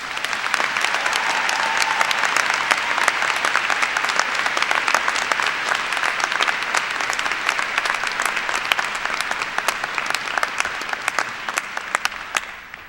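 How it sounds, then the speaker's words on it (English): A college commencement audience applauds to welcome a graduate named Andrea, dense sustained clapping from a large crowd filling the hall, steady and loud throughout with no talking over it. "Please join me in welcoming Andrea with a round of applause"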